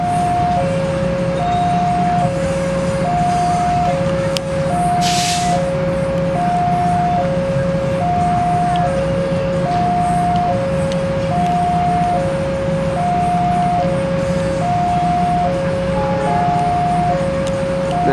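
A repeating two-note station chime loops steadily over a constant low rumble at Tertinggi station during the crossing of the Argo Wilis and a KLB test train, with a brief hiss midway and no voices.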